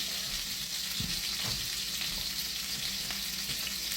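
Meat frying in a pan with smashed garlic and seasonings, a continuous bright sizzle with a few low knocks and bumps of the pan, steady and close, no speech.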